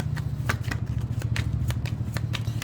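Tarot cards are shuffled by hand close up, a rapid run of riffling slaps and soft flicks in an uneven rhythm with no voice over them.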